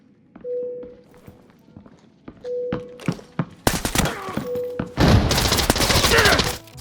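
Gunfire in the shooter game Arena Breakout Infinite: footsteps and gear thumps at first, then a sudden burst of rapid, loud shots that keeps going to the end, with a short tonal beep repeating in the background.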